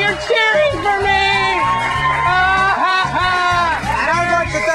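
Loud, dense crowd noise fills the whole stretch: an audience cheering, whooping and shouting at a film-fan competition show, steady and close with overlapping voices throughout.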